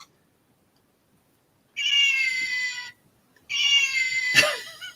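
A small toy kitty gives two bright electronic meows, each lasting about a second, with a short pause between them. The second meow ends in a sharp click, and no voices are heard.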